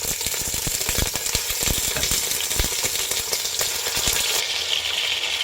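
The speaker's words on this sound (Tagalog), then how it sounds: "Igisa lang natin ng chicken hanggang maging lightly brown na siya, both sides." Chicken sears in a hot pot with a loud, steady sizzle, broken up by clinks and scraping from stirring.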